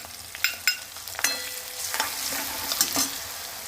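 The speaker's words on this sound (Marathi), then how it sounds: "मसाला छान तेलामध्ये परतून घेऊ" Garlic, cumin and grated coconut fry in hot oil, a soft steady sizzle broken by several sharp scraping clicks of a spoon stirring the pan, close and fairly quiet, with no voices.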